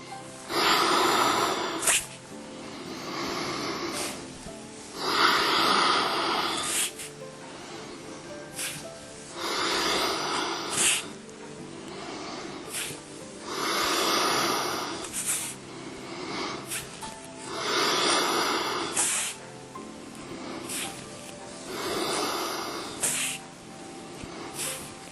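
Yoga breathing during a knee exercise, with deep audible inhales and exhales repeating in a slow, even rhythm over roughly twenty-five seconds. The breaths are close and fairly loud and hiss like air through the nose and mouth, with no speech.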